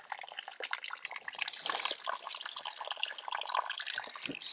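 A mountain stream runs along a multiday trekking route in the Pirin range, a steady close rush of water with fine splashing, no voices, continuous throughout.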